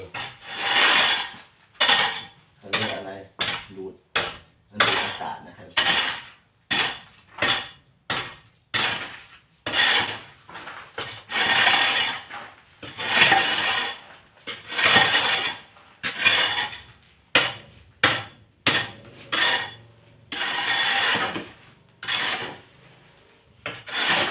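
Repeated rasping scrapes in short bursts, a tool scraping around drilled holes in a hard kitchen surface with brief pauses between strokes, close and steady.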